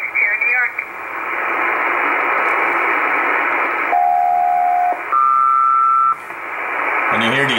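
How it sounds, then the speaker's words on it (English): SELCAL selective calling tones heard on a North Atlantic aeronautical shortwave frequency near 6 MHz: two steady sustained tones in sequence, each about a second long, over constant loud radio static and hiss. "cell call is actually selective calling, sending digital tones to specific planes"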